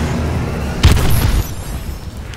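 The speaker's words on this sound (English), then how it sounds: "Friendly missile strikes inbound." A missile strike explosion in Call of Duty: Advanced Warfare multiplayer, heard as a single loud, close boom with a rumbling tail that fades over about half a second above steady game ambience.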